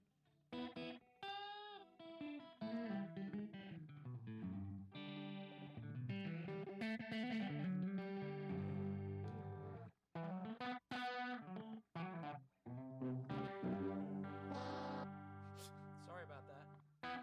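Electric guitar run through a slapback delay with the reverb turned all the way down, playing a steady stream of riffs and chords with short, tight echoes; loud and continuous apart from brief pauses.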